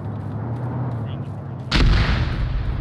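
A single heavy mortar round booms suddenly after a quiet stretch of low background rumble, with a loud sharp blast followed by a sustained rolling decay.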